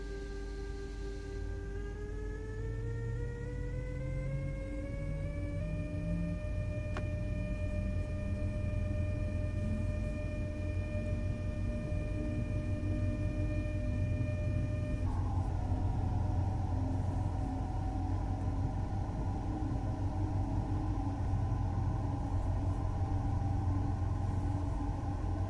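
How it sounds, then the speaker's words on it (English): Train in Train Sim World 5 accelerating under power, a steady rumbling drive with rising electric motor whine tones that climb and hold, then drop to a lower hum as power eases, continuous and fairly quiet. "As the train accelerates, you can apply more power as needed."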